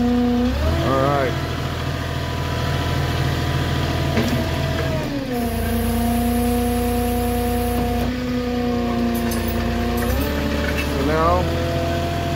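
A flatbed truck engine idles with a steady low rumble and shifting tones on a quiet neighborhood road, while someone talks over it close by.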